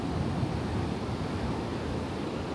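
Ocean waves wash onto a beach in Bali, a steady, moderately faint surf hiss with a low rumble. Wind noise is mixed in, and no individual wave break stands out.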